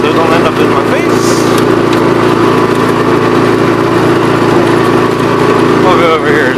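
A Remote Outpost Pro 12 power broom mounted on an 83 clears snow, its engine droning loud and steady throughout, with brief higher whirring bursts layered over the continuous motor noise.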